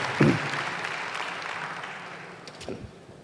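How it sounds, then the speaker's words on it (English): Graduates clap at a tech skills program graduation ceremony, a steady wash of applause running through the clip with a couple of louder bursts near the start and end, moderately loud and fairly close. "Please, you can clap for yourself as I sit down."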